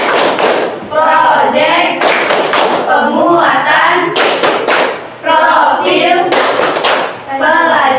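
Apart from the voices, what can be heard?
group hand clapping in rhythm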